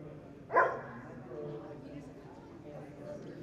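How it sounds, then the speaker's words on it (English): A single sharp bark from one of several hunting dogs baying at a bear outdoors, fairly distant, followed by quiet ambient noise and faint murmurs. "they're just barking like crazy at the bear"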